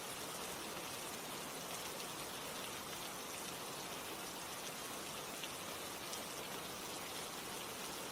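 Steady rain falls without pause, a dense, even patter of drops hitting surfaces with constant hiss and no voices or other sounds breaking through.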